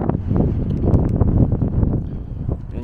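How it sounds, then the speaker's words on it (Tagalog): Strong, cold wind blows outdoors in early-morning South Dakota, a loud, gusty rumble buffeting the microphone with fluctuating bursts and faint rustling. "Tapos yung hangin, sobrang hangin talaga."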